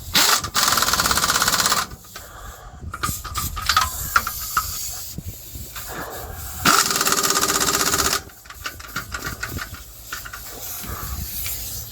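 Bolts on a brake caliper bracket of a Ford F250 6.0 diesel rear brake are driven tight with a pneumatic impact tool, giving loud bursts of air hiss and rapid hammering, separated by pauses with clinks.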